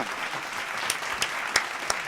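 Studio audience clapping on a French talk show, a steady, moderately distant patter of applause with a few sharper individual claps standing out, no talk over it.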